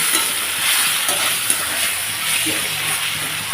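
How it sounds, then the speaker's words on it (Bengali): Spices with chili powder, turmeric and tomato sizzle steadily while being stirred and fried in a pan for a goat meat curry, a continuous close hiss with faint scraping, no talking. "এখন মশলাটাকে আমি ভালোভাবে কষিয়ে নেব দেখো টমেটোটাও বেশ সুন্দর নেতে আসছে"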